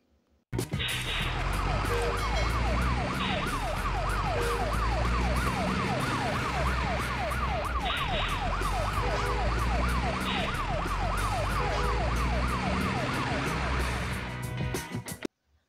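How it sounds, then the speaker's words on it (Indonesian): Toy emergency ladder truck siren wailing in a fast, steady up-and-down sweep, loud and close, with electronic beeps under it, starting abruptly and stopping just as suddenly after about fifteen seconds. "Ini ada truk tangga darurat."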